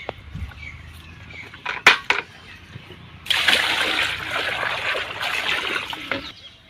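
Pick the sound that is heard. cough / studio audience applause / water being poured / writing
water being poured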